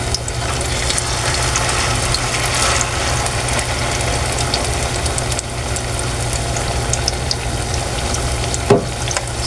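Sweet potato (kamote) frying in a pan of hot oil, a loud, steady, dense sizzle that runs unbroken throughout, close up, with a brief knock near the end and no talking.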